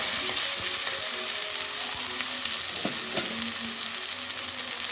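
Half a tablespoon of ginger garlic paste sputters in a pan, a steady close sizzle with faint utensil clinks and a few sharper pops.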